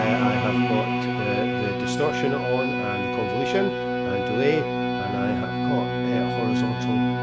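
An Ergo Kukke virtual Armenian duduk plays a sustained, wavering reedy melody over a steady drone, processed with distortion, convolution reverb and delay, filling the whole stretch at steady volume.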